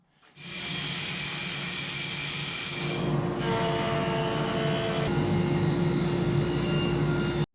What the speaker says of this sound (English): Still rough milled edges on them, so let's start with a circ saw.